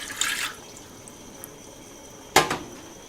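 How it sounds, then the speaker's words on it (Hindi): A cup of water poured into a clay cooking pot, two short splashing pours, the second louder, with faint drips between over a quiet background. "आपने इसमें 1 कप पानी डाला।"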